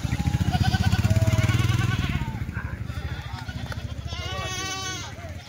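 Goats bleat repeatedly amid a busy, noisy livestock market with continuous low rumble; several wavering calls stand out, loudest near the end.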